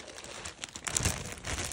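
A Ziploc plastic bag crinkles close by in short, uneven bursts of rustling, packed with small gift items for a girl's Operation Christmas Child box.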